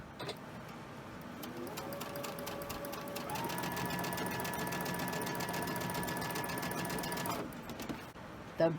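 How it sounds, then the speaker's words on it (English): A sewing machine stitches quilting fabric in a home studio. It runs in one steady, close, whirring burst for about five seconds, then stops. "when I sew, I'm going to start here so that my fabric doesn't get caught into my machine"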